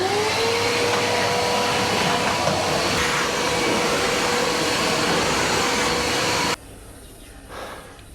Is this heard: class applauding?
no